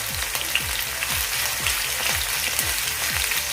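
Onion and ginger-garlic paste sauté on a medium flame for capsicum masala, with a steady close sizzle broken by regular stirring strokes roughly twice a second.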